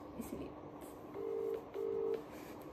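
A phone dials a call with two short, evenly spaced keypad beeps, clear but fairly quiet over faint room noise.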